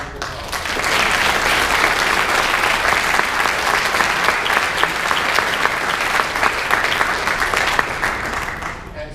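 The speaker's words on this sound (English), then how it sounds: "you definitely deserve a round of applause" Steady, full applause from an audience at an awards presentation, filling the room at even loudness for about nine seconds before easing slightly at the end.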